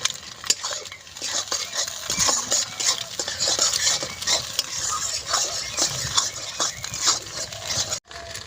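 Egg frying for chowmein is stirred in a pan, with frequent close metallic scrapes and clinks of a utensil over a continuous sizzle, the rhythm of stirring irregular and busy throughout.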